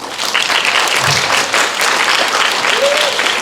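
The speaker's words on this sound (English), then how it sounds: "you want to give him a big round of applause" A crowd claps steadily, broad and loud, sustained throughout with no pauses.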